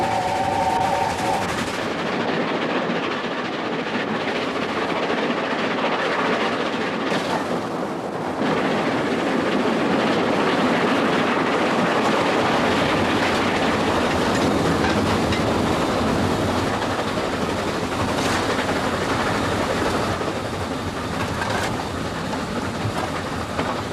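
A train running along the Long Drag railway line, with a continuous close rumble and rhythmic wheel clatter that stays loud and steady throughout, with no talking.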